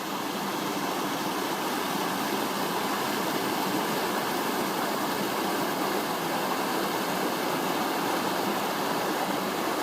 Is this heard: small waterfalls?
yes